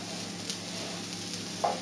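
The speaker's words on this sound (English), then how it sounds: "You want your seeds and your nuts just to toast up a little" Seeds and nuts toasting in a dry pan for a vegan nut roast give a steady, faint sizzle with light stirring scrapes and one small clink near the end, no talking.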